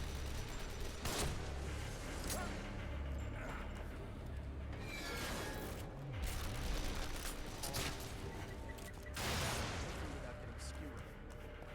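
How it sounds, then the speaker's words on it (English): Distant gunfire from enemies shooting down from above in The Evil Within, scattered shots and bursts layered under a steady game background with voices talking over it. "They're shooting from above."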